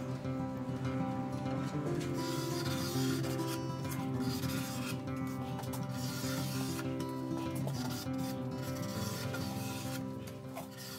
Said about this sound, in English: I gave the desk a final sanding